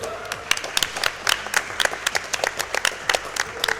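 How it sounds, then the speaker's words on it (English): Audience clapping at a summer speedrun charity marathon, a steady patter of many hands with scattered sharper claps standing out, fairly close and continuous throughout. "yeah, you can clap."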